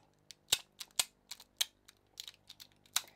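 Sharp clicks from a magnetic fidget toy come in an irregular burst of about a dozen taps, close and crisp, with no voices.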